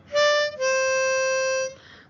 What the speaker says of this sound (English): you're going to play this pattern on your harmonica